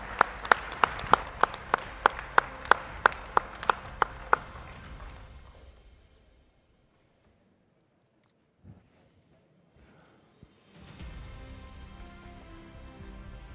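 A crowd at a desalination innovation prize event claps for sponsors in a short burst of sharp, rhythmic claps that quickly thins into scattered applause and dies out, followed by near silence and then faint room noise.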